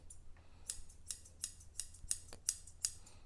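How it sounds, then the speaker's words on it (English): Embroidery scissors snip through fabric in a steady series of about eight crisp, close cuts, evenly spaced and quiet in between. "if we're cutting fabric,"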